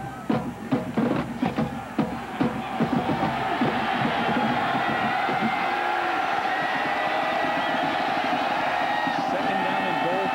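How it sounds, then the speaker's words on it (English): Football stadium crowd at an Iowa Hawkeyes versus Iowa State Cyclones college game cheering, a distant roar that swells into a sustained loud wall of noise, with a commentator talking over the start. "The crowd now raising the level of noise."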